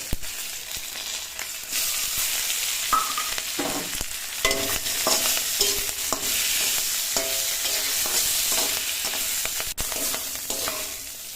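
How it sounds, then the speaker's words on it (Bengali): Bottle gourd, already seasoned with salt and turmeric, fries in a pan with cumin, bay leaf and green chili. A constant close sizzle plays under repeated scraping stirs of a spatula, with no voices. "এখন ভেজে এর সঙ্গে জিরে তেজপাতা কাঁচা লঙ্কা দিয়ে আর একটু নাড়াচাড়া করে তুলে নেব।"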